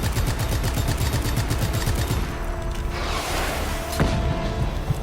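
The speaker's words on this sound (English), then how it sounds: "Now I'm putting bullets into you" Rapid automatic gunfire bursts in Just Cause 3, loud and close, firing in quick repeated volleys for about two seconds, then a whooshing rush and a sharp impact boom, with no voices.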